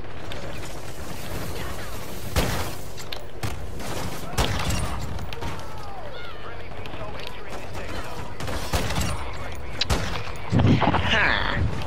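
Gunfire in Call of Duty: Modern Warfare 2 rings out in sharp single shots and short bursts amid in-game clatter, with a player talking excitedly over the action.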